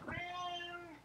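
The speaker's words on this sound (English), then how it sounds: "That was my cat." A single drawn-out house cat meow, close and clear, rising then falling over about a second.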